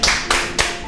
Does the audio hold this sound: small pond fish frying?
no